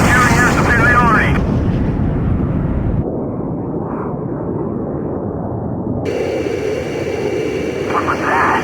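Allied transport planes in Ace Combat Zero: The Belkan War drone with a steady, loud engine roar that shifts in tone partway through, with voices talking over it.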